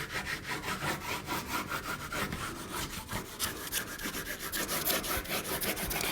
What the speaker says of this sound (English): I'm using the side of my brown crayon.